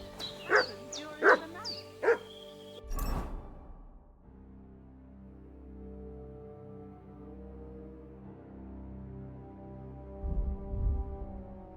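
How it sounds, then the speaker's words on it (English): Dog in the game Kingdom Come: Deliverance 2 barks three times in quick succession, fairly close and loud, followed by a thud and a lingering ambient village background with a faint stir near the end. "What's that dog making such a fuss about?"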